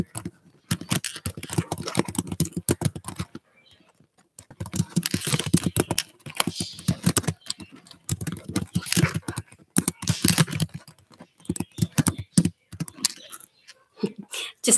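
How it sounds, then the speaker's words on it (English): Fingers tap on a computer keyboard in quick irregular bursts of clicks, close and moderately loud, with brief pauses between runs of keystrokes. "let me type a little something in here"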